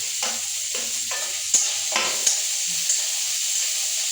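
Chopped green chillies drop into a hot frying pan and sizzle steadily, with a few brief stirring scrapes and clinks over the continuous hiss of frying.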